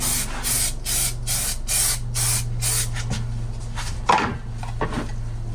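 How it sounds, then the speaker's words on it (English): Aerosol adhesive sprayed onto a van's interior trim panel in a run of short, close bursts that come quickly one after another, followed by a few scattered handling knocks and one final brief spray. "you spray the adhesive on the panel itself"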